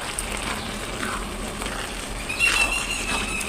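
Hilsa fish tail is stirred in a hot pot for hilsa polao, giving a soft, steady sizzle with faint scraping movements and a brief brighter burst of frying near the end.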